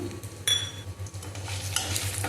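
Tamarind, ginger, dried chili and asafoetida roasting in a pan, a gentle dry sizzle with a spoon stirring and scraping, one sharper clink near the start.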